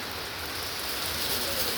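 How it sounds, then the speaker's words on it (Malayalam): Light rain begins to patter down outdoors, a soft, even hiss of drops that swells slightly over a couple of seconds, with no voices. "തുടങ്ങി മഴ തുടങ്ങി."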